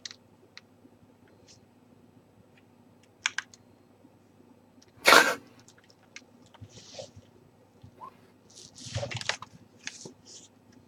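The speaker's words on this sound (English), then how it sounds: "We can hear you typing." Sparse keyboard typing picked up by a camera microphone during a call: a few scattered clicks and taps over a quiet electrical hum, with one sharp louder burst midway.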